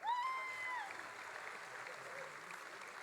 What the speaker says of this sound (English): One more round of applause for our wonderful alma mater.